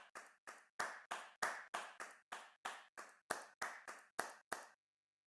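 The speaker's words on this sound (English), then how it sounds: "can you please stop clapping for a second, Era?" A person claps on a call, about fourteen sharp, evenly spaced claps in a steady rhythm, fairly close and clear with no talking.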